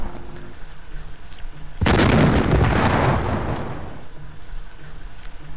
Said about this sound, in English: Only the forward turrets are firing.